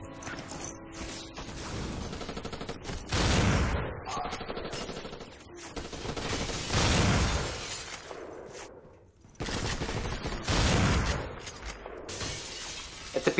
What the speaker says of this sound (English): The sound effects are also excellent, especially the sound effects of the weapons.